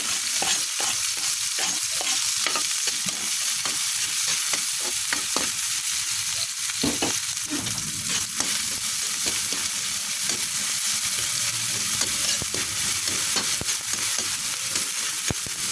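Onion and tomato sizzle steadily in a hot pan, with frequent scraping and stirring strokes over the constant frying hiss, close up and with no talking.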